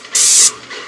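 An airless paint sprayer fires one short burst of about a third of a second, a loud, close, sharp hiss that cuts off abruptly, followed by a fainter, softer trailing hiss.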